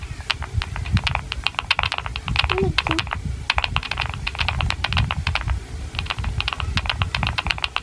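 Rapid clicky typing on a computer keyboard runs steadily throughout, close and crisp, while a voice speaks briefly in the middle.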